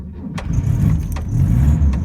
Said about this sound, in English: I'm gonna start it up because I want to show you how the engine works